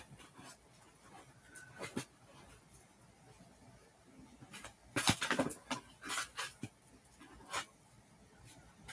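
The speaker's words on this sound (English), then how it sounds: "Dog is always with me" A dog moves about nearby, with soft whimpers, snuffling and patter in irregular bursts, quiet at first and louder near the middle.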